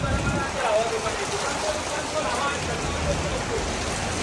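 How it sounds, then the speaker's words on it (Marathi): The first monsoon rain hisses and patters steadily without a break, with a faint murmur of voices somewhere in the background. "बघा पहिला पाऊस सुरू झाला"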